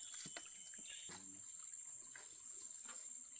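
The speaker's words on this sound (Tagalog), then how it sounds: "Dito ta waterfalls. Waterfalls ito." A river waterfall flows in a steady, faint wash of falling water, heard from some distance with a thin insect-like whine above it.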